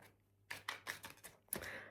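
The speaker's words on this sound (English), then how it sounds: "it feels so weird like doing the shuffling when these cards are so big" Large tarot cards are shuffled by hand, producing several quick, faint riffling and slapping bursts in an uneven rhythm against a quiet room.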